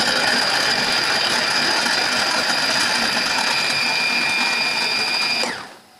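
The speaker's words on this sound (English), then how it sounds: "and I will just start the processor" A food processor chopping garlic whirs loudly and steadily with a high motor whine for several seconds, then winds down and stops abruptly.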